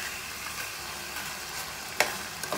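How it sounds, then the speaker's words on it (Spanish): Seasoned chicken browns in caramelized burnt sugar in a pot for locrio de pollo, giving a close, steady sizzle and fry with a sharp utensil clack partway through. "aquí le estoy dando colorcito al pollo para luego echarle la salsa"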